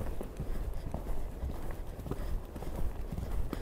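A ridden pony's hooves clip-clop in a steady rhythm on an arena surface during a riding lesson, the footfalls soft and moderately close, with faint talk now and then.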